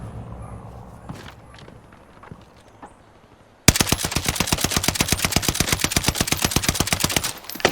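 NZ-41 rifle fitted with an MX silencer firing in a video game: quiet handling noises, then a loud, rapid sustained burst of automatic shots at an even rhythm lasting about four seconds.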